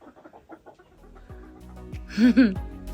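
Chickens cluck in a short run of soft notes near their coop, followed by a louder, drawn-out squawk toward the end, close by and with no talk.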